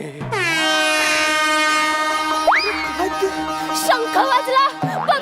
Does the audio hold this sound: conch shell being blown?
yes